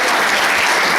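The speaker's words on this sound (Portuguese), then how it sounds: "Uma salva de palmas." An audience gives a round of applause, a brief burst of loud, thick clapping that fills the whole second evenly, with no talking over it.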